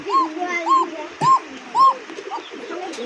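A-grade pigeon with a thin, high tune coos in a repeated rhythm, about four clear rising-falling calls close by, with someone talking over and between them.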